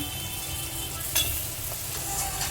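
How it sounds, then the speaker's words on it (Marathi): Steady hot-oil sizzle with occasional stirring scrapes as vegetables, including eggplant and drumstick pods, sauté in tempering oil in a pan, close and continuous. "या भाज्या टाकून आपण परतून घेऊया"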